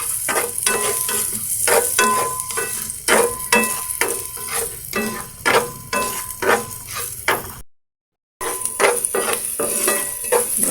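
Onions sauté in a hot pan for a Filipino milkfish steak dish, sizzling steadily while a utensil scrapes and stirs in a quick repeated rhythm, close and loud, with a brief silent gap partway through.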